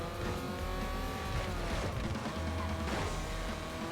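Race cars in the 007: Everything or Nothing PS2 game roar past in quick succession, two loud engine sweeps over a constant engine drone with hints of skidding tires, no voices.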